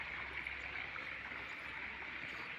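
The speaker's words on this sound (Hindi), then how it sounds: "ये फ्रेश पानी आ रहा है, पीछे से ट्यूबवेल चल रही है" Fresh tubewell water from a small 4-inch turbine pump flows into a swimming pool as a steady, even rushing stream, constant and fairly quiet, with no talking.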